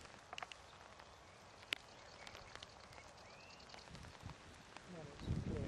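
Rain falling beside the Hampshire Avon, a soft steady patter with scattered drop taps, faint and outdoors, swelling toward the end with a louder low rumble.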